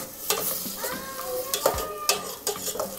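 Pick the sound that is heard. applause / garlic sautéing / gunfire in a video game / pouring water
garlic sautéing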